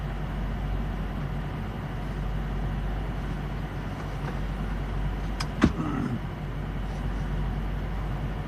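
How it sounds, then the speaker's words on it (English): TA emergency truck rolling past at a truck stop in Morris, Illinois, a steady low engine rumble with a brief sharp clank midway, moderately distant. "Here comes a TA emergency truck."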